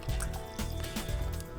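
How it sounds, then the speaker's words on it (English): Orange juice and cranberry juice poured at once from two bottles into a glass behind a bar, a steady close liquid fill with bubbling splashes throughout, fairly loud and continuous. "Or I can start pouring these at the same time,"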